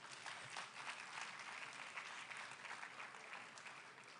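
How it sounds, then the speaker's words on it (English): Applause from a church conference audience acknowledging the speaker's husband, a steady wash of many hands clapping, faint and distant throughout. "Please clap for my husband."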